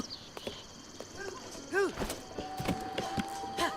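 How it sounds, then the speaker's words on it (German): Rhythmic clip-clop of horse hooves in Zelda: Breath of the Wild, with game sound effects and chimes, while people talk excitedly over it. "Hast du gesehen, das Ganon-Pferd?"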